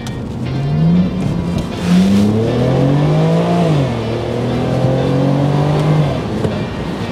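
A BMW car engine revs up sharply and then drops quickly back down, rising and falling twice in smooth, snappy sweeps, loud and close.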